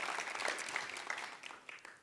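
Audience clapping in a hall after a startup pitch at a demo day in Singapore, a steady patter of many hands for about two seconds, moderately distant and fading slightly toward the end.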